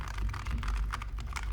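Keys clatter in a steady, close patter of typing on a Logitech G515 Lightspeed TKL low-profile wireless gaming keyboard resting on a gaming pad, with no voices present.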